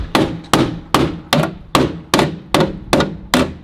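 Nine loud, evenly spaced hammer blows strike metal while fitting a roll bar, each with a sharp ringing impact, steady and close with no talking.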